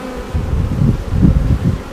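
A honeybee colony buzzes during a hive inspection, a dense, steady low drone close by that swells in gentle pulses, with no voices.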